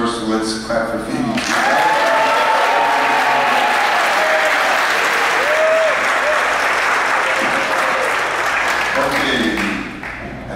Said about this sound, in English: let's clap for Phoebe